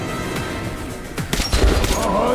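Gunfire from the video game Metro: Last Light rattles out as a cluster of sharp shots and booms, growing denser and louder toward the end over a constant hissing game background.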